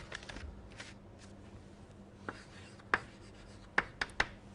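Equations handwritten during a lecture on heat transfer in a tube, with soft pen strokes and a few sharp taps and clicks against a quiet room background.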